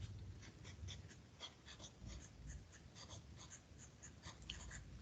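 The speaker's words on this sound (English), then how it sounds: "Let's go ahead and write that." Marker strokes on a classroom board while taking lesson notes: a steady run of short, scratchy squeaks and taps, close and fairly quiet, with no talking.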